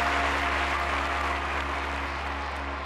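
A stadium crowd applauds during a discus throw in the London 2012 video game, a dense steady clatter of clapping over a low electrical hum that fades slightly toward the end.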